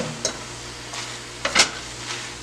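Spinach cooking in a pan with caramelized onions, a soft steady sizzle punctuated by a few close utensil scrapes and stirring clinks against the pan.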